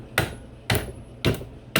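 A hammer taps a part into place on scrap metal, four sharp, evenly spaced knocks about half a second apart, close and distinct with no talking.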